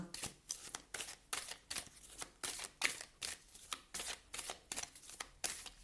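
Tarot cards are shuffled by hand in quick, repeated riffles, a crisp rhythmic flutter of paper close by with brief pauses between bursts.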